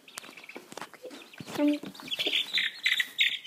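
Rhode Island Red hen clucking among other chickens, a run of short, close clucks and chirpy calls with a higher drawn-out squawk near the end, set in a backyard flock area.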